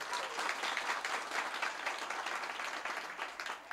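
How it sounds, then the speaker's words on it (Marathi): Sustained applause from men in a kirtan audience, many hands clapping in a dense, steady roar with slight pulsing, fairly loud and close. "बघा कसा फतळक फतळक आवाज आला"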